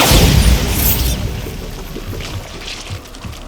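A Bombarda explosion spell in Hogwarts Legacy on Xbox Series S opens with a loud, heavy boom that rumbles and slowly fades into a washing, rushing tail over a few seconds.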